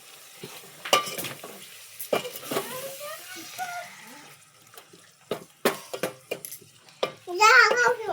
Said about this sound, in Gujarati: હવે મસ્ત એનું હલાઈ નાખીએ આપણે